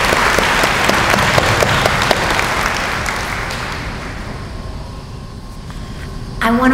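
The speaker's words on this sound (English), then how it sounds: "One more round of applause." Audience applause fills a nursing program pinning ceremony, a dense, loud wash of clapping that slowly thins and fades over several seconds before a voice begins at the end.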